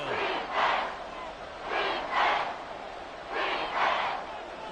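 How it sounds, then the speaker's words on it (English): A football crowd at Arrowhead Stadium roars in loud swelling waves that rise and fall about three times, distant and continuous. "The Arrowhead crowd in full roar."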